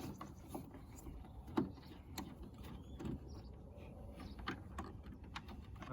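Torx screws being backed out of a Ford Focus MK3 headlight unit with a Torx 30 bit, giving faint, close mechanical clicks and ratcheting ticks spread across a quiet background, with one sharper click early on.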